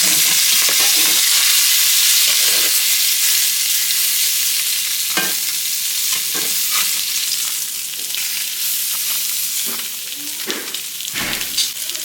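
A flipped salmon fillet fries in a pan, giving a loud, continuous hiss of sizzling oil with occasional sharp pops and spits.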